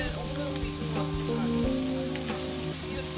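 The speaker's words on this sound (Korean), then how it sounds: "저는 새우랑 오징어 같이 볶아줬어요. 센 불에요." Shrimp and squid stir-fried over high heat in plenty of oil with scallion, chili and minced garlic, a loud, steady sizzle broken by scraping stirring strokes, close up.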